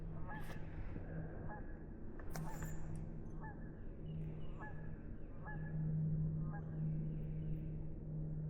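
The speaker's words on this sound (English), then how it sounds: "There are a couple geese honkering away." Geese honk repeatedly on an early-spring lake, heard at a moderate distance from a kayak, with a steady low hum beneath the calls.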